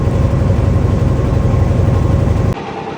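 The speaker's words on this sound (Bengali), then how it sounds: "এদিকে ট্রলার ছুটছে" A trawler boat's engine runs steadily close by, a loud continuous low rumble that drops abruptly in level near the end; no talking.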